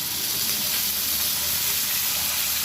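Ginger and garlic paste hits hot oil in a pan with fried potatoes, giving a loud, steady, close sizzle with no break.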